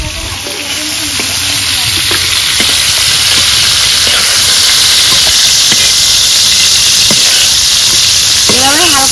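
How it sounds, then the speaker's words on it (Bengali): Shrimp fry lightly in a pan with loud, continuous sizzling and hissing, plus occasional scrapes of stirring close by. "এভাবে হালকা করে ভেজে নেবেন"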